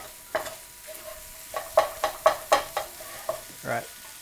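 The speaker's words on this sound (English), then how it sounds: "Really wants to stick to the pan, which creates like an amazing crust." Corned beef hash is stirred and scraped in a hot pan. A soft sizzle runs under a series of rhythmic scraping strokes, heard up close with no talking.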